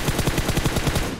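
Rapid automatic gunfire from enemies in an online shooter game, a steady burst of roughly ten evenly spaced shots fired close and loud, with no talking over it.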